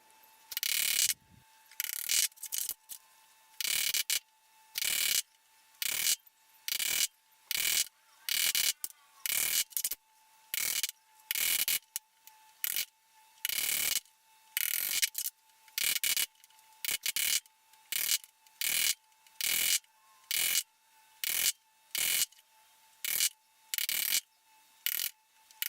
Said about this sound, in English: for this box I decided to use a chisel to chop out the waist.